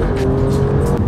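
Alfa Romeo Stelvio Quadrifoglio with a 2.9-litre (2,893cc) V6 producing 510 horsepower, engine revving loudly and steadily up close, a strong continuous rasping drone with no talk over it.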